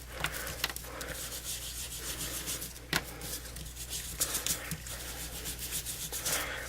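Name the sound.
rubbing shimmer paint on with a dauber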